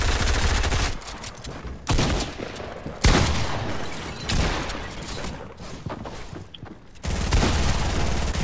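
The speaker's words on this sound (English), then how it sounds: "We getting shot." Dense bursts of rapid gunfire in a Fortnite match, loud and close, coming in several sustained volleys separated by brief gaps.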